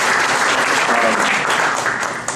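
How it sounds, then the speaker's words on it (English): A crowd at a Mobile Monday Silicon Valley tech meetup applauds steadily, a dense wash of clapping that carries on throughout before easing slightly at the end. "Give them a round of applause"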